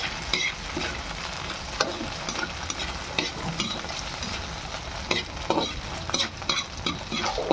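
Leftover fried rice with garlic, boiled egg, nuggets and hotdog being stirred in a pan, a steady scraping and shuffling of utensil on pan over a continuous sizzle, with irregular louder scrapes throughout and no talking.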